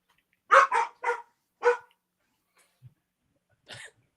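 A pet dog barks four times in quick succession close to the microphone, followed after a pause by a softer grunt and one more short bark, with no talking over it.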